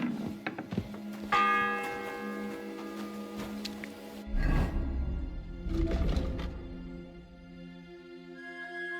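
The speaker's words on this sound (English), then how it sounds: "It's the 8th bell." A church bell tolls in the medieval video game Kingdom Come Deliverance 2, its resonant strikes ringing out with long, lingering decays amid quieter ambient game sounds.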